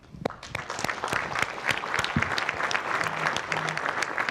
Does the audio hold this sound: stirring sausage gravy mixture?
no